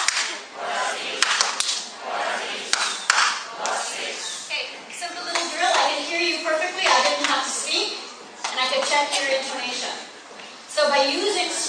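Hands clap in a rhythmic pattern during an English language lesson, with sharp bursts of claps mixed with spoken voices and children's speech.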